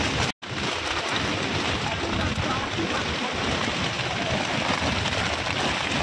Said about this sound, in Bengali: বাইরে বহুত জোরে বৃষ্টি হচ্ছে, বহুত জোরে হাওয়া দিচ্ছে